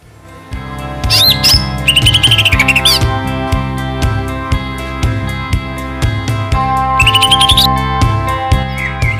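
Green leafbird song rings out in rapid, bright warbling phrases in two bursts, over a steady rhythmic musical backing track.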